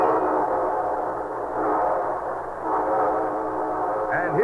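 A train rumbles steadily as its horn sounds in long blended tones, loud and sustained throughout.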